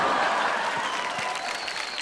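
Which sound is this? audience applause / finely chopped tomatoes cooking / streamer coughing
audience applause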